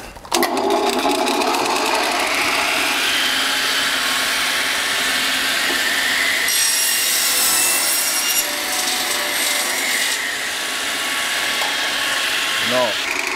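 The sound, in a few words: sawing wood with a power saw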